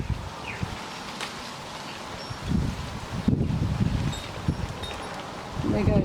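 Outdoor wind gusting across a microphone in open air, with low rumbling buffets and rustling that swell and fade over several seconds at moderate loudness, with no talk.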